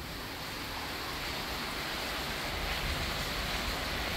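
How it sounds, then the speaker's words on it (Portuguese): Heavy rain in Crato, Ceará: a dense, unbroken broadband roar of downpour, steady and fairly loud, with no voices. "David Viana, que é chuva no meu cratinho de açúcar"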